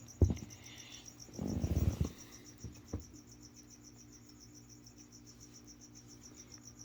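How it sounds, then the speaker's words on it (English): Crickets chirp in a steady, faint high pulse running through the whole stretch, with a few soft rustling thumps near the start from something moving nearby. "There's some crickets hopping around."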